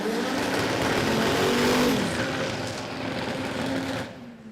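Drag racing cars roar down the strip at Willowbank Raceway in Australia, a loud sustained engine howl close by that holds steady, then drops away near the end.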